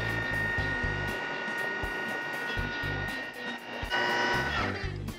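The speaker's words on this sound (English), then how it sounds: "put it in the food processor, put it on. Turn it about, start it low, and then you can go high" A food processor whipping a cucumber-style sandwich spread whirs with a steady mid-pitched motor hum, cutting in and out in short pulses before surging louder near the end, close by and without talk.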